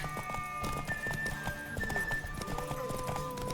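Steady clip-clop of horse hooves with occasional whinnies, mixed with music and effects from The Witcher 3: Wild Hunt, continuous and fairly close.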